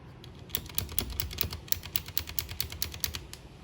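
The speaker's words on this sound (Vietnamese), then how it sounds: "Các bạn nghe nè, đúng chuẩn blue switch luôn rồi nha các bạn" Rapid clicky keystrokes on a budget Leaven K550 mechanical keyboard with blue switches, a quick irregular run of sharp tactile clicks heard close and fairly quiet, with no talking.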